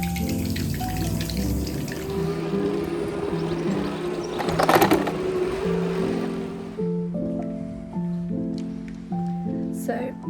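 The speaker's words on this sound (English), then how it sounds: "I just strap it on like this, and you see the water goes through." Tap water streams through a newly fitted faucet filter in a home kitchen, a steady rushing flow that swells briefly midway, with soft clinks and taps near the end.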